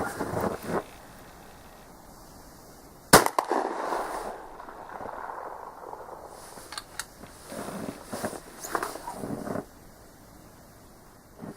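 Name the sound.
Optima 12 gauge shotgun shot at 50 meters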